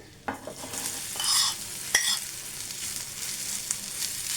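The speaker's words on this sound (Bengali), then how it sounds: "নেড়ে নেব, খুব বেশি নাড়বো না, খুব বেশি করে ভাজবো না, অল্পই ভাজবো।" Green pea filling with asafoetida and ginger is stirred and lightly fried in a pan: a few soft scrapes and clinks sit over a faint, quiet sizzle, with no voices.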